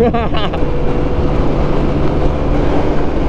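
A motor scooter engine held at full throttle roars loud and steady throughout, with a brief rising whine at the start and constant rushing wind.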